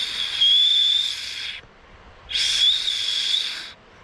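Knuckle whistle blown through slightly opened cupped knuckles, heard as two breathy, hissing high-pitched blasts of roughly a second each with a short gap between them, loud and close, with no voices.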